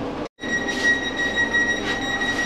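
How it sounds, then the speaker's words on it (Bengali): Steady rumble and hum inside a Vande Bharat Express train at the NJP station as it starts, with faint tonal whines above, a brief drop to near silence early on, then continuous carriage noise with no distinct door thud. "তো এখন ট্রেন হবে চালু, ট্রেন খুলছে, তো দরজা হচ্ছে বন্ধ"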